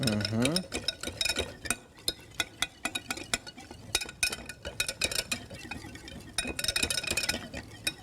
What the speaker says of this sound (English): we'll just whisk that right up till it's kind of homogeneous